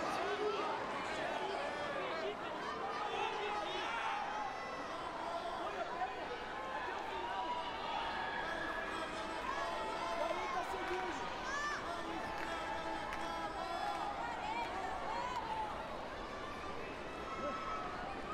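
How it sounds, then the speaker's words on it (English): Dense crowd noise at a Rio 2016 Paralympics judo bronze medal bout fills the space, a continuous roar of many voices with shouts rising over it, heard from within a large stadium. "and the crowd erupt."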